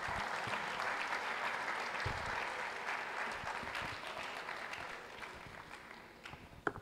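Audience at a college of health and medicine induction ceremony applauds steadily for several seconds, a dense crowd of clapping that tapers off toward the end.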